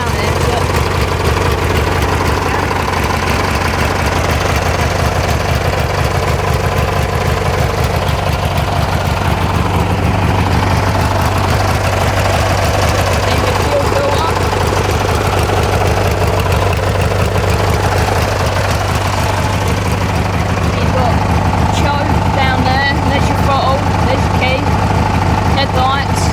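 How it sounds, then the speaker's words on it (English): A Westwood T1600 ride-on lawn mower engine runs steadily at idle throughout, a loud continuous low rumble with constant vibration and no pauses. "Did have it running a little while ago. Started up."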